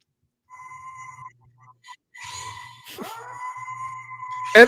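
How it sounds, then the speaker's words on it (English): A werewolf howl sound effect in an unreleased song: a long sustained howl with a bending pitch slide in the middle over a faint low musical bed, ending in a sudden louder burst. "every time you hear a werewolf howl, take a drink"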